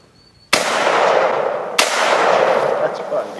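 Two loud, close rifle shots from an FN FAL in the woods, about a second apart, each sharp crack followed by a long rolling echo through the trees.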